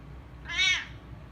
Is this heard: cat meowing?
yes